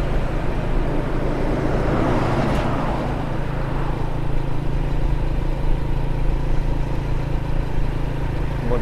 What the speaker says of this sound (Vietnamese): Rất là nhiều ô tô.